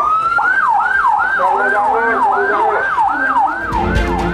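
An ambulance siren wails in a steady repeating sweep, about ten rising-falling cycles, loud and close, as the vehicle evacuates students from SMPN 1 Cisarua in Bandung, West Java, toward Cibabat hospital.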